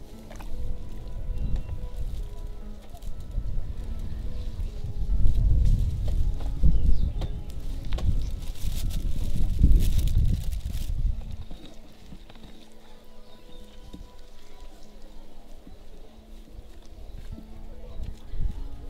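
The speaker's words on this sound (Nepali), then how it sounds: "यसलाई हामीले लौराको सहायताले मजाले चलाउँछौँ।" A stick stirs a wet bijamrit seed-treatment mixture, making close, squelching, sloshing strokes that grow heavier for a while and then settle into quieter, slower swirling.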